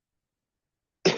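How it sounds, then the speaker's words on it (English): A single short cough bursts out abruptly at the very end after near silence. "Sorry, I have some cough."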